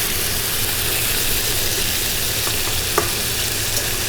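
Chicken pieces browning in a pan for coconut chicken curry give off a loud, even sizzle that runs without a break, with a faint tap or two and no voices.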